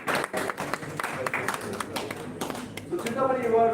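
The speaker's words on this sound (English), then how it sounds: "Lot of applause for Chintamani." Audience clapping at an oratory contest ceremony, scattered claps forming moderate applause, with voices coming in near the end.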